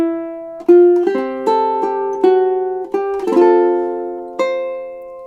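A ukulele plays a slow single-note and chord melody of a song, each plucked note ringing clearly and decaying, close and alone.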